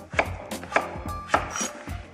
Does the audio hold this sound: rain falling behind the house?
no